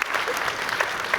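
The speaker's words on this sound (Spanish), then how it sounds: "darles un caluroso aplauso a nuestros dos ponentes el día de hoy" A brief burst of warm applause from a round-table audience for two panel speakers, dense overlapping clapping at close range.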